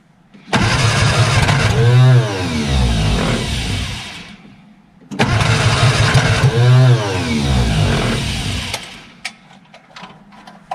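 An old barn-find Austin-Healey Sprite engine cranks and catches on choke twice, each start running rough and loud for a few seconds before dying away, with faint clicks afterward.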